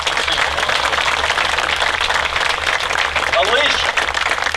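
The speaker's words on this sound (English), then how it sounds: "Let's give him a round of applause" An employee at a K-Flex USA event gets a round of applause: a dense, sustained burst of crowd clapping, loud and near, with voices mixed in.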